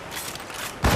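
Ship cannons firing in Assassin's Creed Rogue during a naval battle in icy waters: a steady mechanical rumble and clatter, then a heavy, loud low boom bursting in near the end.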